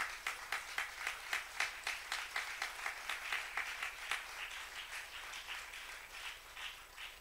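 Church congregation clapping together in a fairly quick, regular rhythm to acclaim the Lord, heard at moderate distance, with the beats strong at first and then blurring into softer, looser applause.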